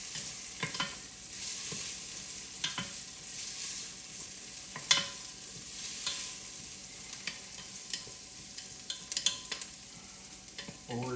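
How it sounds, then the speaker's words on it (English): Garlic and vegetables sauté in a pot for tomato soup, a soft constant sizzle broken by repeated scrapes and clinks of a spoon stirring at irregular intervals. "just by sauteing them in the pot, we're just adding flavor"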